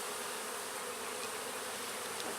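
Agitated honey bees buzzing in a dense, steady swarm drone just after a hive frame is shaken, a continuous close hum with no pauses.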